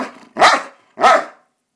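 A dog gives two short, sharp barks on command, close and loud, separated by a brief pause, with no talking in between.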